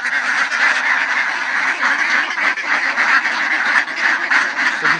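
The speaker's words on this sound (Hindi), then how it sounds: "ये बतखों का फार्म है बतख का डक फार्म है" Many ducks quack together on a duck farm in Swabi, a dense, continuous chorus of nasal calls, loud and close, with no pause.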